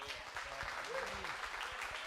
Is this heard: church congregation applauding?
yes